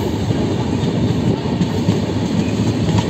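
Garba Express passenger train running past Fatehpur Sikri, a loud, continuous close rumble with clickety-clack of wheels on rail joints throughout.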